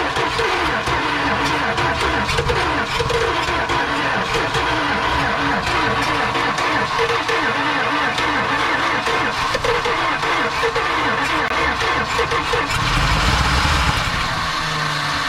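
A big-block 383 V8 in a Dodge D-200 Crew Cab Sweptline pickup runs loud and close at a rough, lumpy idle, with a steady throbbing rumble throughout and a slight swell near the end.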